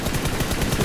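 Rapid gunfire bursts from a red-dot-sighted gun in the mobile battle royale game PUBG Mobile, a quick string of sharp, loud shots lasting under a second.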